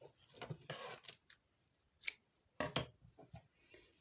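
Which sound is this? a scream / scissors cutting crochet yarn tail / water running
scissors cutting crochet yarn tail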